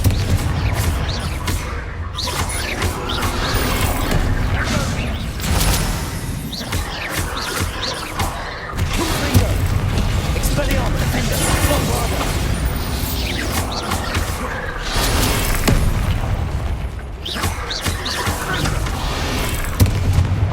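Bombarda spell explosions in the Hogwarts Legacy video game during a chaotic room-clearing duel, heavy booms and crashing debris repeating over a dense, loud barrage of combat effects.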